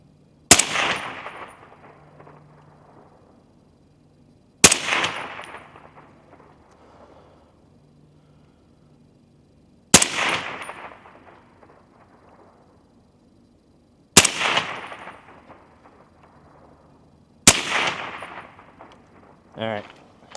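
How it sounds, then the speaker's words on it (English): A suppressed AR10 JT10 rifle fires tactical rounds outdoors, five single loud shots spaced several seconds apart, each a sharp crack with a decaying tail and quiet in between. "And we're gonna fire these tactical rounds and see how they do."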